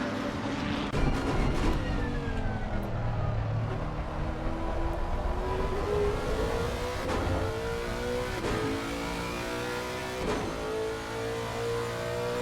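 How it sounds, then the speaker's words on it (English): A GT3 race car's Japanese V8 engine in Assetto Corsa Competizione at Spa roars and revs steadily, shifting pitch up and down as it accelerates, with other cars droning nearby. "It's weird how a Japanese V8 sounds better than an LT6."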